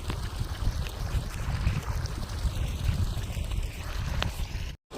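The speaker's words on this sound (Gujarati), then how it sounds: "મિત્રો આ મશીન ચાલુ કર્યું છે અહીં આ કેનાલમાંથી આવે છે પાણી" A diesel-powered irrigation pump machine runs steadily at a farm field near Sanand, a loud close rumble with canal water flowing alongside, continuous and without talk.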